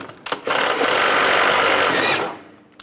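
A power tool loosens a control arm bolt on a 1998–2010 Volkswagen Beetle, a close, loud, steady whirring buzz lasting a couple of seconds, framed by short clicks before and after.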